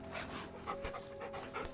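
Torgal, a wolf-like dog companion in the video game Final Fantasy XVI, panting steadily in quick rhythmic breaths, close and continuous, with game ambience beneath.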